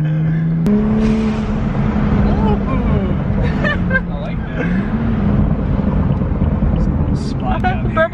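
A BMW 435i engine with a Stage 2 tune drones loudly inside the cabin, rising and settling in pitch, with occasional crackling burbles from the exhaust and people talking over it.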